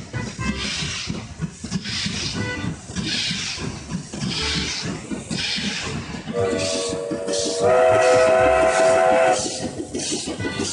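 A cartoonish train in a cute kids' racing game rolls along with rhythmic rail clatter, and a bright steam-style whistle tone rings out near the end, all under a busy music bed.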